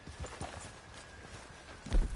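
A horse's hooves clip-clop at a walk in the Western video game Red Dead Redemption 2, with soft, fairly quiet, regular steps and a louder thump near the end.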